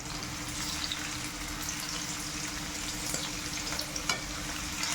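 Torn chicken pieces frying with lightly browned onions in a pan for a wedding-style vegetable dish, giving a quiet, continuous sizzle with scattered small crackles and no speech.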